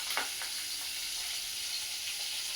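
Hilsa fish frying in a pan in a home kitchen gives a steady, fairly quiet sizzle with a few faint clinks of stirring near the start.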